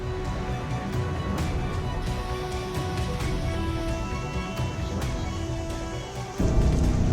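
Heavy monsoon rain pours steadily over Delhi, a dense continuous hiss of downpour with drops drumming on surfaces, growing slightly louder and deeper near the end, with no voices.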